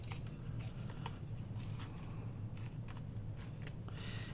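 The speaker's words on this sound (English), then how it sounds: "I'm just going to tear around this butterfly." Scrapbook paper is torn by hand around a butterfly cutout, producing close, intermittent ripping and crinkling bursts over a steady low background hum, with no talking.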